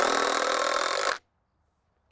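Power driver sinking a screw into a deck rim joist on a 24 x 40 Trex deck build, a steady loud whirring burst lasting about a second that cuts off abruptly, then near silence.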